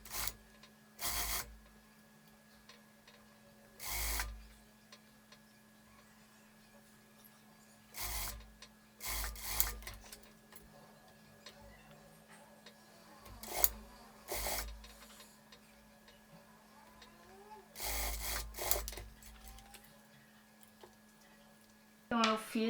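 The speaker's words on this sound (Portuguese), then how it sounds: "vou passar uma costura na máquina reta com a distância aqui de meio calcador mesmo, só na beiradinha" A straight-stitch sewing machine stitches along the edge of a cropped top, joining main fabric to lining, in short bursts of whirring separated by quiet pauses.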